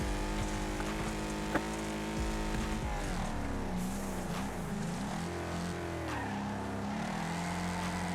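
Racing car engines in a driving sim rise and fall in pitch as the cars shift and corner, loud and continuous, with tire squeal and a brief knock early on.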